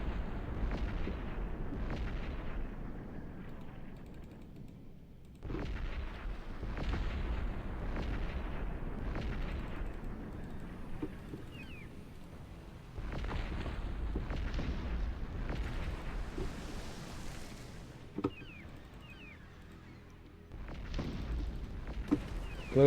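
Heavy ship cannon blasts in the game Cossacks: Back to War boom one after another in rough bursts, deep and rumbling, with brief lulls between volleys.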